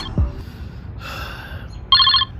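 A telephone rings with an incoming call in a quiet room, a short electronic ringtone burst followed by a louder, sharper ring pattern near the end, close and clear with no talking.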